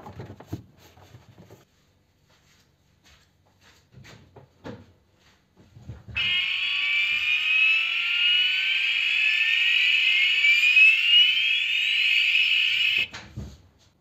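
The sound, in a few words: car reversing alarm beeping after installation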